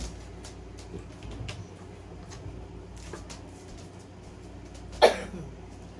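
A single short cough bursts out once near the end, louder than the faint, steady room noise around it.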